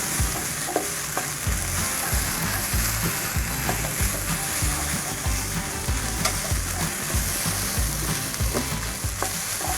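Thai basil fried rice being stir-fried in a pan, continuous sizzling under rhythmic scraping and tossing of the spatula, close and fairly loud, no talking.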